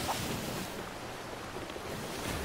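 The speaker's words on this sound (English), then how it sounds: "These waves are ridiculously large." Large ocean waves in the Sea of Thieves video game during a solo sail form a steady, continuous surf roar with a windy wash, moderately loud throughout and with no talking.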